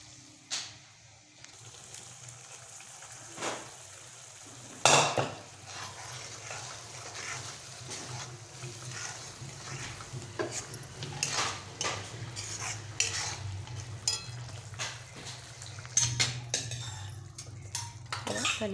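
Lentils for dal tadka tipped into a hot tempering of spices and asafoetida, then stirred: a clattering drop and scrape of a spoon against the pot, followed by continuous wet stirring and light sizzling, close by.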